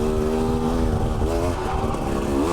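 A 2019 Husqvarna TE300i two-stroke dirt bike engine pulls steadily in low second gear, a close, loud buzzing drone with slight rises and dips in pitch throughout.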